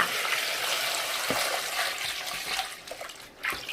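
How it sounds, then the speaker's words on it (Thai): Fresh salad greens, spring onions and cucumber are rinsed in water, with a steady close splashing and rushing wash broken by a few handling knocks. "ต่อด้วยล้างผักสดค่ะ"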